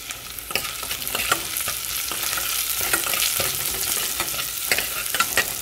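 Onions and curry leaves sizzle and crackle in hot oil, a steady frying hiss with occasional scraping stirs, close up and without talk.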